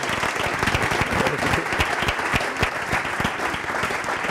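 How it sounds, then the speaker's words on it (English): A crowd at a marketing-effectiveness session gives steady, dense applause that holds at an even level for several seconds. "Big applause for you all."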